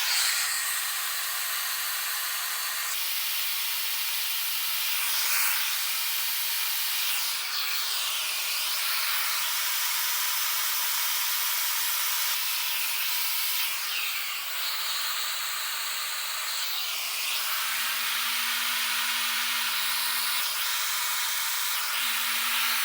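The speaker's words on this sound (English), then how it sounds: "I'm going to turn my hair dryer on high heat" Hair dryer blowing on high heat, a steady airy hiss that runs without a break, with faint shifts in tone as the airflow moves around.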